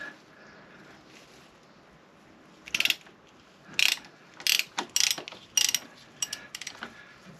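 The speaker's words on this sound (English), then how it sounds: "So this goes on the oil filter, then we just undo it like a normal nut." Ratcheting filter wrench clicking as it loosens the oil filter on a Triumph Tiger Sport 1050 motorcycle, a series of sharp close ratchet bursts after a quiet start, with no talk.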